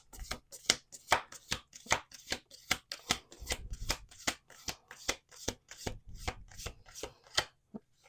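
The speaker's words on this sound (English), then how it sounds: "We'll do 2 more shuffles." A deck of cards being riffled and shuffled in quick crisp bursts, repeated several times close up, with no talking.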